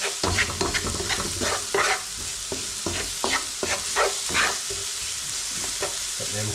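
Curry spices fry in a pan, a steady hiss of sizzling broken by repeated scraping strokes of a spoon as they are stirred, close and clear with no talk.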